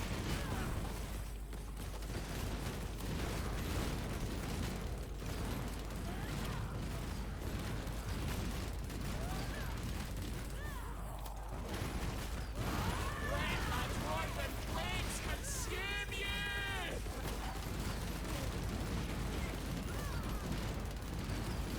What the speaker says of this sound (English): Look at what happens to my FPS if all of them start exploding